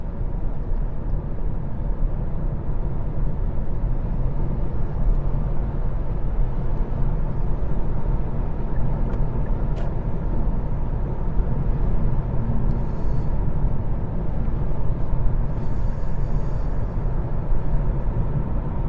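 Interior road noise inside a Kia e-Niro 64 kWh electric car on the move, a steady low rumble of tyres and wind filling the cabin without pause, with no engine tone and no one speaking.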